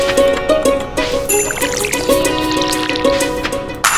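A watering can pours onto crops in the Stardew Valley video game, playing as light splashing water effects with chiming game music underneath, continuous and moderately loud.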